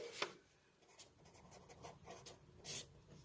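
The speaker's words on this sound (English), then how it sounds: "So I am writing law 2." A pen writes in a notebook during a maths lesson on the laws of exponents. Close, faint scratching strokes come in short bursts, with a few sharper taps.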